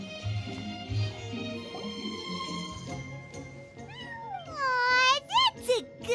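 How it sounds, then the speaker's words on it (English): A cat meows in the video game Genshin Impact, giving a string of rising and falling meows that grow louder near the end over background music and talk. "That's a good kitty, Sir Pouncelot."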